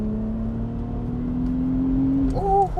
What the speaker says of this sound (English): that engine at high revs. Yeah, this sounds really good. This has a sports exhaust